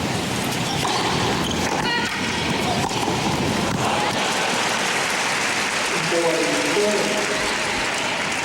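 Tennis spectators at the 2005 US Open, during the Clijsters vs Pierce match, clap and cheer after a fan catches a ball in the stands, a steady broad wash of applause with crowd voices throughout.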